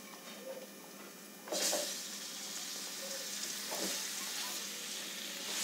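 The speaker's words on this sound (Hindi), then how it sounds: "अब इसके अंदर हम ये कटे हुए धुले हुए आलू डाल देते हैं।" Cut, washed potatoes hit a pan of fried turmeric and red chilli, setting off a sudden loud, steady sizzle that carries on with faint stirring scrapes, and no voices.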